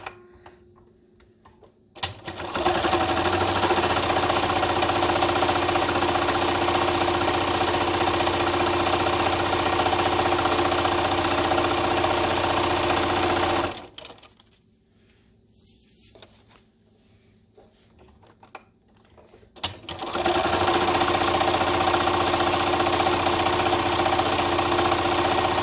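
A sewing machine stitches vinyl bag straps in two long bursts of steady, fast whirring and ticking, each lasting several seconds. A short quiet pause separates them, and nobody speaks.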